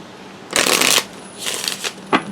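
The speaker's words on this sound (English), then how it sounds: "Make sure they're shuffled back in there really well." Cards riffle and shuffle in several quick bursts, close by, with brief pauses between the papery flutters.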